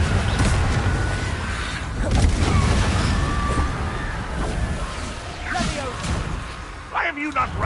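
Confringo fire-blast spells explode in Hogwarts Legacy, booming bursts of flame around the two- and seven-second marks amid a dense, noisy fight, with voices speaking over the action.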